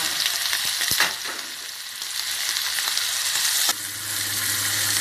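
Curry paste with coarsely pounded garlic and dried chili stir-fries in a little palm olein oil in a pan, giving a loud, continuous close sizzle broken by sharp scraping strokes from stirring, with no talking.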